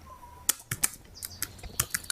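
Sharp computer keyboard keystrokes arrive as a quick series of close clicks in short irregular bursts over quiet background hiss, with faint bird chirps far off and no talking.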